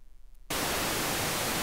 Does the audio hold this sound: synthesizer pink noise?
yes